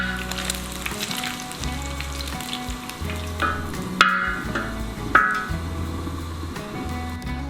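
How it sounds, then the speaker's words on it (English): Bacon fries on a discada over an outdoor burner, a continuous loud crackling sizzle with a low roaring hum beneath and a couple of sharp metallic taps from a utensil against the disc. "First step is to cook the bacon."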